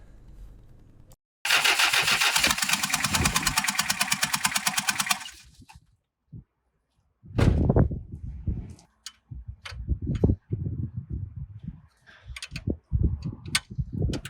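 The rebuilt turbo engine of a Toyota Hilux LN106 is cranked and started for the first time, with a loud rapid mechanical chatter for a few seconds, a gap, then rough, uneven bursts of running nearby.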